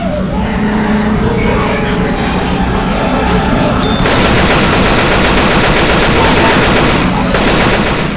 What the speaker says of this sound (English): God damn it, stop shooting me.